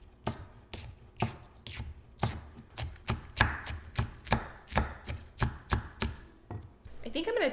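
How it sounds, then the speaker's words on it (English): A sugar rush peach pepper and a jalapeno being sliced on a cutting board, a brisk series of sharp knife taps close up in a fairly even rhythm, with no talking. "we're going to get those sliced up so we can top our nachos with those"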